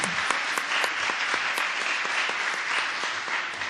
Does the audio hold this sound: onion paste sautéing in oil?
no